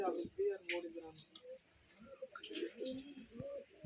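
Rajshahi Giribaz pigeons on a farm give soft, low cooing calls close by, faint and intermittent, with a few chirps mixed in and people talking in the background.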